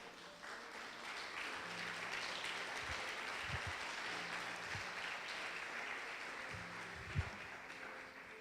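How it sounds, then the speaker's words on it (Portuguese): A church congregation claps steadily for several seconds in a reverberant hall, with low musical tones and occasional thumps faintly underneath. "Sente aplaudindo ao Senhor."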